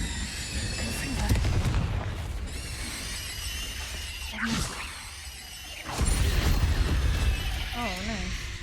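A Confringo blast spell from Hogwarts Legacy bursts with loud whooshing crackles, a sharp explosive hit near the middle, then a second heavy blast rolling into sustained rumble, with game music and effects layered throughout.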